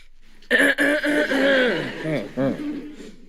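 A short burst of coughing and throaty chuckling from a nearby voice, a few rough bursts close together followed by a brief voiced sound.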